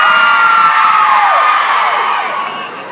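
A live concert crowd at a music festival in Treviso screaming and cheering on cue, a loud sustained roar of high shrieks and whoops that slowly fades over a few seconds, with no talk over it.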